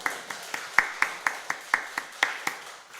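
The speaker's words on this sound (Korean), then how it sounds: "하나님께 영광 박수 올려드립니다" A church congregation at a Sunday service claps in a slow, even rhythm of about a dozen sharp, clear claps, close and distinct with little else behind them.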